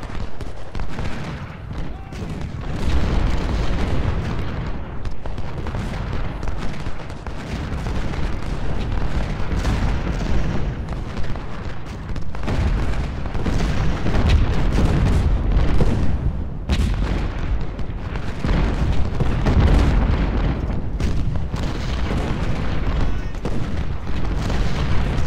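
Field artillery fire in Ultimate General: Civil War during the Battle of Malvern Hill, a continuous loud roar of booming cannon and musketry rumbling throughout, with a voice talking underneath.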